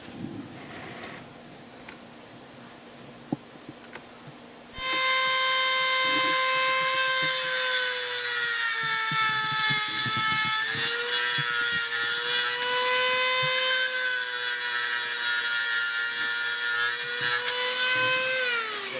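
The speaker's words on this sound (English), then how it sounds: "Now that we burn up all Ted's Dremel bits, should look like that." A Dremel rotary tool grinds on a Ruger 10/22 trigger part, spinning up after a quiet start into a loud, steady high-pitched whine that holds for about fourteen seconds with slight pitch shifts under load.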